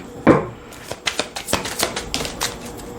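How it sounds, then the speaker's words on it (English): Deck of tarot cards being shuffled by hand, a sharp opening riffle followed by a run of quick soft flicks and taps, close and fairly loud. "Okay, so we're saying to shuffle from this deck."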